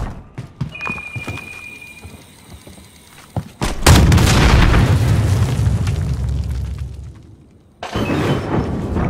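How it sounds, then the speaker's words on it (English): Cruise missile killstreak in Call of Duty Modern Warfare: brief launch sounds and a few sharp pops, then a massive roaring blast that rumbles for several seconds before cutting off, followed by another burst of heavy booming. "Cruise missile, go for launch."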